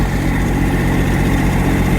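A tractor runs on a wooded property beside a sawmill, its engine throbbing at a steady, even idle close by, loud and alone.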